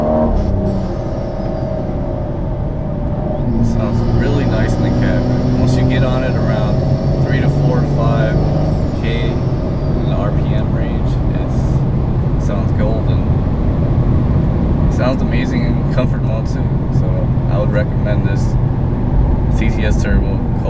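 A BMW 435i xDrive fitted with a CTS Turbo cold air intake, heard from inside the cabin in sport mode on a smooth newly paved road, with a steady engine drone and road hum under continuous talk.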